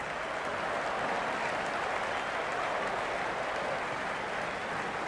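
A cricket crowd applauds in the video game Cricket 26 during a T20I Zimbabwe versus Pakistan match, a dense, steady wash of distant clapping and crowd noise that holds at an even level throughout.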